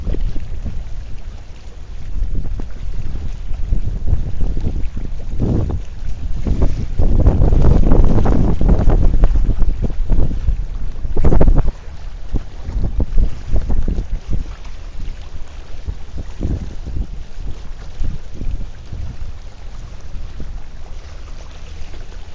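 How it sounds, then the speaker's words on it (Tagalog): Strong wind buffets the microphone in heavy, roaring gusts that swell and ease over a long stretch, with no voices. "Lalo lumakas ang hangin"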